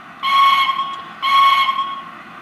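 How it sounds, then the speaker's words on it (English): Southern Railway shunting whistle from an Econami UK DCC steam sound decoder, two short sharp shrill blasts, loud and close, separated by a brief pause. "that's the Southern Railway shunting whistle"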